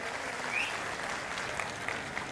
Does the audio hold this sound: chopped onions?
no